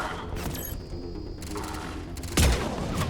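Automated turrets fire bursts of rapid gunfire in the video game Mass Effect 3, with crackling volleys and a heavier blast near the end, fairly loud amid game noise.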